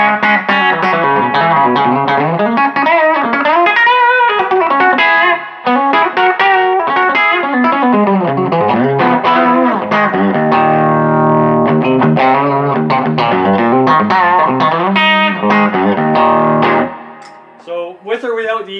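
Electric guitar through a Quilter SuperBlock amp with an EQ pedal boosting every second slider, playing a long, fluid lead with bends and quick runs, slightly overdriven and close, alone without speech until a brief pause at the end.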